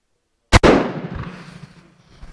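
A single sharp, loud rifle shot from a Swedish Mauser 96/38 bolt-action rifle, fired close by, followed by a decaying outdoor echo and faint background rustle.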